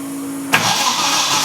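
A Ford Capri with a 2.9 Cosworth engine is started, a faint starter whine followed by a sudden catch into a loud, steady running roar.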